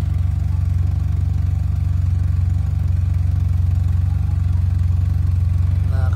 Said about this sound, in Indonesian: ini kita dengerin suara mesinnya